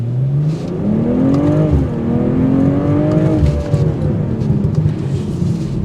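A 2023 BMW M440i in sport mode revs loudly and close by, its engine note rising, dipping sharply and climbing again in a smooth sweep before settling into a throaty idle.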